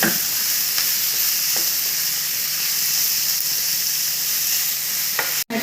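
Large and small onions fry in a pan for an onion mutton fry, giving a steady close hiss and sizzle with a few faint scrapes from stirring and a brief clatter near the end.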